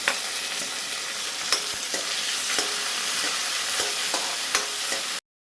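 Onion for mataki usal fries in a pan, a loud close sizzle with regular sharp spatula scrapes roughly every half second, ending abruptly into silence.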